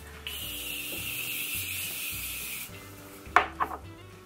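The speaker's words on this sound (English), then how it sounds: "I'm just going to go ahead and spray my face." A long, steady hiss of spray runs for a couple of seconds, followed by a few sharp clicks and taps, close up, with no talking.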